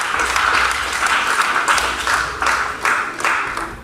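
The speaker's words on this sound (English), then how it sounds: "you should give yourself a big round of applause for that" Applause from people at a Guyanese health briefing, a loud room of clapping that swells and dips in uneven waves before thinning toward the end.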